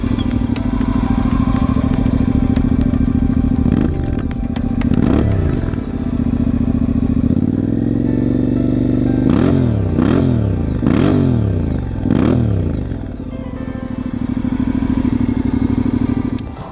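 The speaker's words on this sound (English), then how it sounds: "Let's hear the exhaust running about 1 inch wide." A motorcycle idles through a home-built steel-reinforced epoxy muffler with the exhaust opening about an inch wide, a loud steady rumble broken by several sharp throttle blips and revs, close up.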